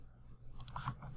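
A few quick mouse clicks while working with paths and fill in Photoshop, small crisp taps close by over a faint steady background hum.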